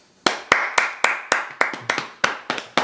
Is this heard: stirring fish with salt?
no